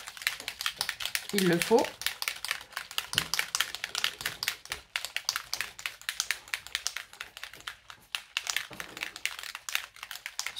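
A Vintage Photo spray ink bottle shaken to mix, giving rapid, steady rattling taps close by that run under a woman's quiet speech.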